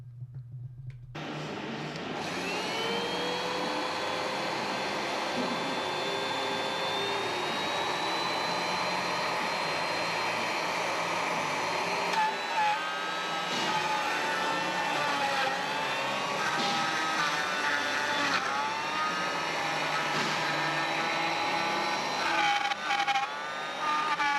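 Router-style power tool cutting the inner ring of a wooden Lazy Susan, a loud sustained whining motor with shifting pitch as it bites into the wood, continuous for over twenty seconds.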